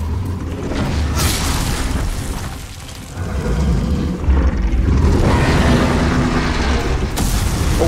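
Boss in the Demon's Souls PS5 remake breathing fire: a loud, sustained roaring rush with deep rumbling booms, dipping briefly midway before surging again and holding to the end, with no talk.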